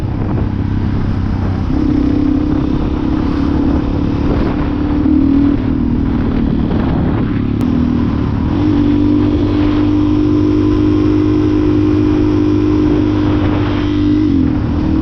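A motorcycle engine pulls hard and loud close by, its tone climbing through revs, dipping at a shift, then surging again as it accelerates, with strong wind rush throughout.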